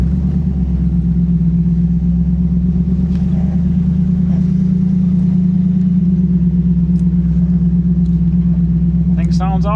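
A 1937 Buick street rod with a BluePrint 350 crate V8 idles steadily and close, a deep, even engine rumble throughout, with a brief rising whine near the end.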